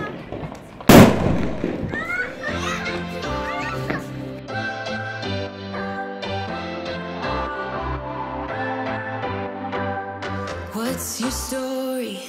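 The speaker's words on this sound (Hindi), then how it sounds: "और भैया ने लगा दिया अब ये गोला बम" A gola bomb firecracker goes off during Diwali celebrations with one sharp, loud bang near the start. Music with singing then plays steadily for the rest of the clip.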